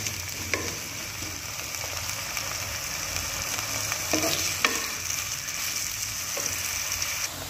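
Bitter gourd pieces fry in two spoons of oil in a wok, giving a steady close sizzle with brief bursts of crackle and stirring clatter throughout.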